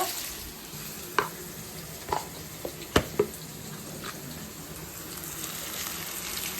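Ginger garlic paste fries in a pan with a steady sizzle, punctuated by several sharp spoon scrapes and clicks against the pan, with no talking.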